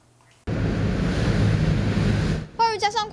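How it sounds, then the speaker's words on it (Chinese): Strong typhoon wind with heavy rain, a loud continuous roaring rush of wind and rain lasting a couple of seconds before a voice begins speaking. "暴雨加上狂风相当猛烈，一整片树木都被吹得东倒西歪。"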